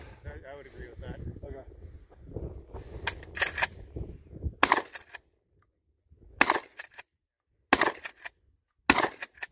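At a 3-gun match, a shooter fires two magazines in sharp bursts of rapid shots separated by brief silences, with people talking early on before the shooting starts.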